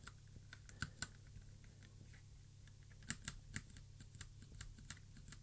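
Mechanical keyboard switches pressed one by one on a switch tester, a clicky switch among them: sparse, close, quiet clacks and clicks in an irregular rhythm against a soft background hiss, with no voices.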